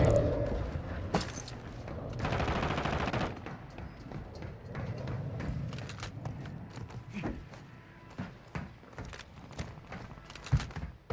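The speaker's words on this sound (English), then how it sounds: "I hear gunfire." Scattered gunfire in the video game Warzone 2, a quick burst of automatic shots early followed by irregular sharp cracks and pops spread across the stretch, mostly distant and mixed with game ambience.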